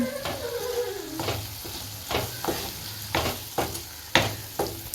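Chopped tomato stirred into a frying pan of Chettinad crab masala, sizzling steadily while a spoon scrapes and knocks against the pan in a loose rhythm, close by and with no voices.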